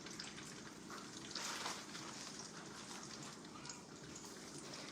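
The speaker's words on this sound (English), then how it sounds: "now I'm going to put the battered zucchini in there" Battered zucchini frying in hot oil gives a soft, steady sizzle and crackle that runs evenly throughout, faint and close, with no talking.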